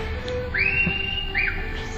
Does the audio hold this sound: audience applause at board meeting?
no